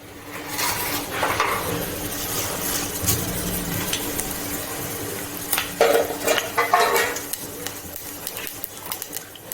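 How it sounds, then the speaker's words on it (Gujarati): Mustard seeds and cumin crackle and sizzle in hot oil in a pan, tempering for Kathiyawadi khaman; a steady frying hiss with a few sharper pops and spoon clinks near the end, no talk. "તપેલીમાં તેલ મૂકશે તો આપણે રાઈનું જીરું નાખીશું."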